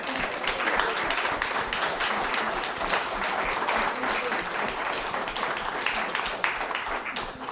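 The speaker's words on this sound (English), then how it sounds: "Let's give them a round of applause" A city council audience gives a round of applause after a May observance proclamation is signed by the mayor, an even, continuous spatter of many hands clapping at moderate volume with no talking.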